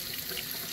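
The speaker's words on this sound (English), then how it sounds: "Just rinse it with water" Running tap water rinsing a fresh strawberry, a brief, soft, steady splashing stream heard alone.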